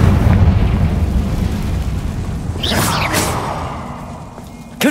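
A Confringo blasting spell in Hogwarts Legacy: a deep, continuous rumbling roar that swells into two quick whooshing bursts partway through, then settles back into a heavy low drone with a sharp jolt at the very end, loud and close.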